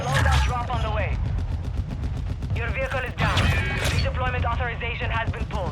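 Dense gunfire from the video game Call of Duty Warzone 2, Armored Royale mode: rapid overlapping shots and bursts that run loud through the whole stretch, with someone talking over the shooting.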